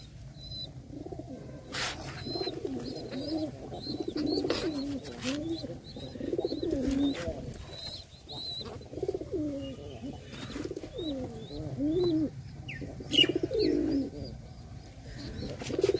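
A pair of domestic pigeons, one white and one yellow, coo inside their coop, their soft rolling calls repeating close by and steadily, with faint chirps overhead.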